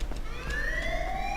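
A wailing police siren in the video game GTA Online sweeps upward over a low steady hum, loud and close, with faint clicks behind it.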